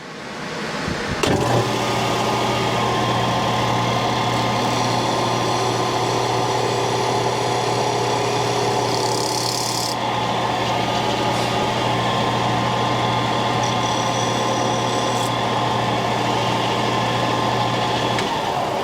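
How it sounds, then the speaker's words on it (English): A loud disc sander in a woodshop, used while shaping a wooden gavel's mallet head, runs with a steady motor drone and humming tones throughout after a sharp start, with no talking. "This is a disc sander. And there's a disc sander on here. It's got nothing on it. But this one is loud."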